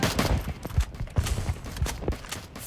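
Video game gunfire, rapid repeated shots in quick bursts, loud and close with a dense crackling rhythm for the whole moment.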